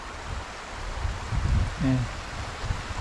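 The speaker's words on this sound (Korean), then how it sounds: "아, 이제 물소리가 들리기 시작하네요." A mountain stream in a rocky valley on Seoraksan, low in winter, gives a steady soft wash of flowing water, distant and even, while someone briefly speaks near the middle.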